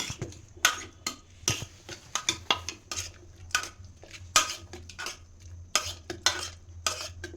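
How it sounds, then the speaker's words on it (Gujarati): A spoon stirs and lightly mashes boiled dal in a metal pot, giving a series of irregular scraping clinks and knocks against the pot with quiet gaps between them. "થોડી ભાંગી નાખવાની, આને ક્રશ નથી કરવાની."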